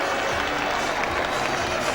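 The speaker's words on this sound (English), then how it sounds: "Well, they are applauding their men off the field for all of that." Bradford rugby league fans applauding in the stands at Odsall stadium, a steady wash of clapping and crowd noise that holds at the same level throughout, with faint murmuring beneath.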